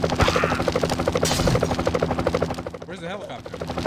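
Rapid rhythmic helicopter rotor thumping pulses steadily throughout in GTA Chinatown Wars, with bursts of gunfire and a brief voice near the end.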